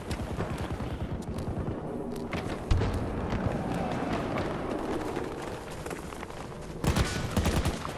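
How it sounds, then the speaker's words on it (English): Rapid gunfire crackles in Battlefield 2042 conquest, dense volleys and bursts pounding continuously with heavier blasts around the middle and near the end, loud and close. "Oh shit, they're shooting at me."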